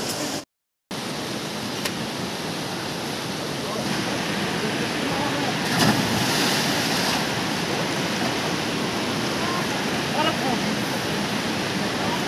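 A river in the Uttarakhand hills rushes steadily in a loud, continuous wash, with a brief dropout near the start and voices faintly mixed into the flowing water.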